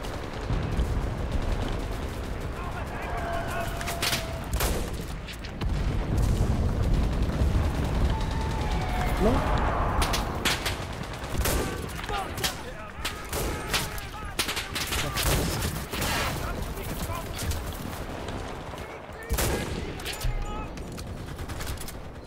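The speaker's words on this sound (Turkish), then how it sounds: "Her yerden mermi geliyor." Gunfire crackles from all directions in the video game Enlisted, dense bursts of rifle and machine-gun shots with distant explosions, while a player talks over the battle.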